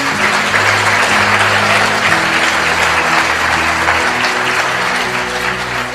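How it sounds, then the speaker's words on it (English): Loud, sustained crowd applause fills a hall during a motivational talk, dense clapping holding steady for several seconds while low sustained music tones run beneath it. "Give yourselves a round of applause."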